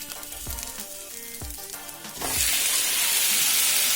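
Tomato drops into a pan of softened onion for chakchouka with a few soft thuds, then a sudden, steady bright sizzle that holds to the end.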